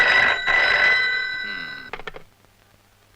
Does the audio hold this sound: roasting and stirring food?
no